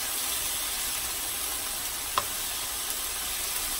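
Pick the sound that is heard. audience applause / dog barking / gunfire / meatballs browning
meatballs browning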